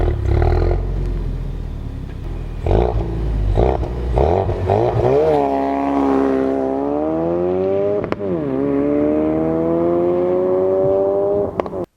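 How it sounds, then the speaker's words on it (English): Ford Focus RS turbocharged inline-4 revving hard, its exhaust giving sharp cracks and blips, then a long, loud rising and falling engine note with one crisp break midway, close and alone. "the exhaust cracks very nicely, even when you rev it"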